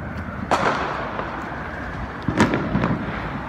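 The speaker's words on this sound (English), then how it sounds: "I'm gonna try to show y'all some firecrackers." Firecrackers pop on a July 4th night in Brooklyn: two or three sharp distant bangs with crackling tails over a steady street rumble, fairly faint and irregularly spaced.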